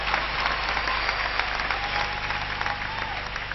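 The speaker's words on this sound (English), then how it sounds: "And I think that this deserves a hand clap." A large gathering at a church ministry event during a visit by Ugandan kings breaks into loud, sustained applause, dense clapping from many hands filling the whole stretch without pause.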